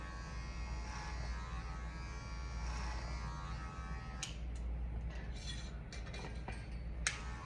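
Electric hair clippers buzzing steadily while cutting hair for a bald fade, a close, continuous motor hum with brief scraping bursts near the end.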